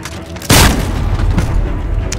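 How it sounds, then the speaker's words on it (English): A single heavy, booming shotgun blast in the video game Call of Duty Modern Warfare, loud and close, then a rumbling tail that fades slowly. "Oh, shotguns."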